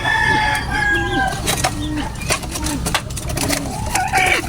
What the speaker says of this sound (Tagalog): marami silang mga manok rito